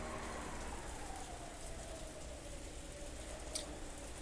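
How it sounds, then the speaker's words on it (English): Rain in the visual novel game Umineko, heard as a dining hall scene plays out: a quiet, steady hiss of falling rain with no voices. "granting no respite from the intrusive sound of rain that was creeping into the dining hall"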